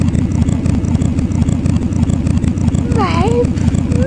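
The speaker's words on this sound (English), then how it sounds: "for some reason it sounds like a car engine" A flying broom in the video game Ecstatica gives a low, steady engine-like drone that hums continuously under a voice, with a brief rising whistle-like tone near the end.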